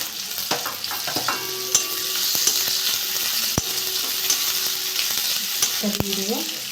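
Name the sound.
garlic and onion frying in hot oil in a wok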